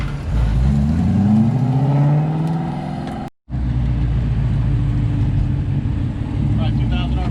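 A Coyote-swapped Mustang notchback launches from about 2,000 RPM, the engine note rising loud and close for a few seconds, then a brief dropout before a steady lower engine drone carries on.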